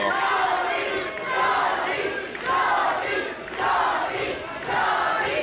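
Crowd cheering at a wrestling bout between Johnny the Star and Paul Goliath, a steady roar that swells in rhythmic waves, like a chant, heard without clear talk over it.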